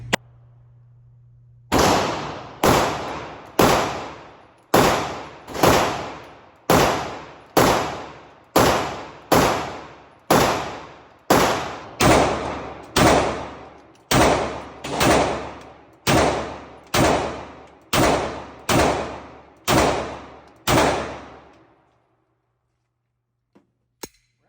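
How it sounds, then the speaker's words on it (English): Shots from an old Generation 2 Glock pistol, a former Washington, D.C. police trade-in: about seventeen loud, sharp reports in a fairly steady rhythm, each followed by a short decaying echo, with no talking. "I'm gonna do a little shooting with the Generation 2 Glock."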